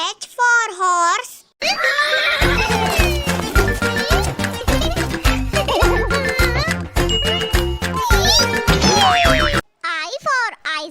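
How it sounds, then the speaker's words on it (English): A cartoon horse whinnies in a children's 3D phonics alphabet song, with a wavering neigh at the opening and again at the close around a loud stretch of bouncy music and singing. "H for horse, H for horse."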